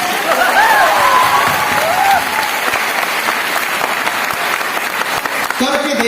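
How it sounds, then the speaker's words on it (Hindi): Audience applause at a motivational lecture in Patna, dense and sustained for several seconds, with a few voices calling out over the clapping near the start. "बजाओ ताली।"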